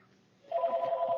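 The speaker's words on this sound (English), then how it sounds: "of course the phone's going to ring right now because I'm making a video" A telephone begins ringing partway through, a steady electronic trill heard fairly faintly indoors after a quiet start.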